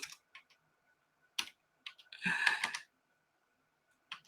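Fingers type on a computer keyboard in a few scattered, sharp clicks, then a quick dense burst of keystrokes, with quiet pauses between; close and fairly faint.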